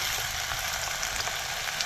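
Garlic and onion frying in hot oil in a wok, a steady close sizzle with a soft crackle running throughout, no voices over it.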